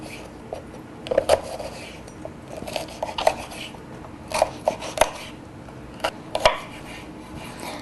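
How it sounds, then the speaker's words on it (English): A knife slicing a seeded, de-stemmed vegetable into small pieces on a board gives a series of sharp irregular clicks and taps, close by and separated by quiet pauses, with no speech. "I'm just going to cut it into small slices."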